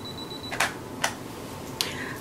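Three short, bright camera beeps or shutter clicks sound during an indoor bedroom photo shoot, spaced unevenly and fairly close over a faint background hum.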